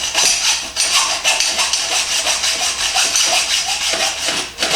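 A hacksaw cuts through metal during a Kawasaki bobber motorcycle build, a loud rhythmic rasping of quick back-and-forth strokes, close up and steady, with no talk.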